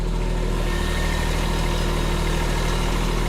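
A compact loader's diesel engine runs at high range in a dense, steady drone with a low throbbing pulse, loud and close throughout with no talking.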